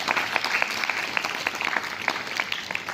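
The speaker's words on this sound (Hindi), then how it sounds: "आप लोगों की ताली नहीं रुकनी चाहिए" Steady applause from a school audience at a Hindi fortnight prize-giving ceremony, dense continuous clapping from a sizable crowd, moderately loud and close.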